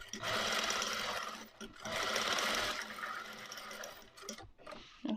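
A sewing machine stitches boning straight down onto a corset in steady, close, rattling runs, with one brief pause midway and a sudden stop near the end. Its noise nearly fills the clip.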